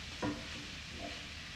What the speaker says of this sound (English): I am actually going to give them their first stir.